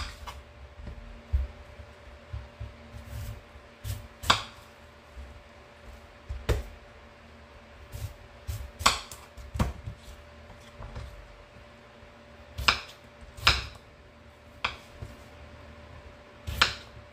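A knife chops fresh garden cucumber into cubes on a cutting board, giving sharp, irregular taps and knocks with short pauses between bursts, close and fairly quiet against a faint steady hum.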